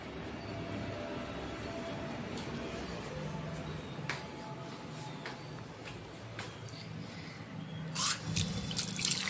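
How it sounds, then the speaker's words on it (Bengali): Tap water runs steadily into a sink as someone washes their face, a continuous close rushing splash that swells louder near the end, with no talking. "আমার ফেস ওয়াশ করা হয়ে গেছে।"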